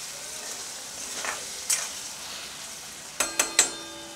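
Potatoes fry in oil in a pan for aloo gobi, a soft, even sizzle under a few sharp metallic clinks and scrapes of a spoon stirring, close and alone.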